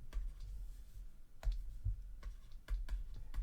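Numbers are keyed into a calculator for a maths problem: a few soft, sparse plastic key clicks, close and quiet, with short pauses between presses.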